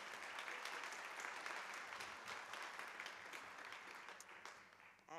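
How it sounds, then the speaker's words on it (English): An auditorium audience applauds steadily for several seconds, a dense wash of clapping that holds fairly even before tapering slightly at the end. "So we'd like to give them a round of applause."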